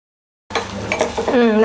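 Egg batter for a village-style attu hits lightly warmed oil in a pan, starting abruptly with a soft sizzle and clinking of a utensil against the pan, while a person talks over it.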